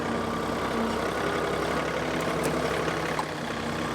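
A John Deere 3046R compact tractor fitted with a grapple, its diesel engine running at a steady, even drone close by, with no talking.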